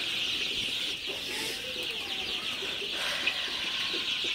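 Sonali super hybrid chicks, fifteen days old, in a tin-roofed poultry shed, giving a dense continuous chorus of high cheeping from many birds at once, steady and moderately loud with no voices.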